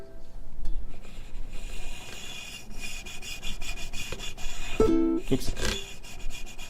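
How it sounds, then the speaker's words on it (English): Raspy scratching of fingernails dragging across guitar strings, steady and gritty, with a brief plucked chord ringing out near the end. "You hear the scratchy sound?"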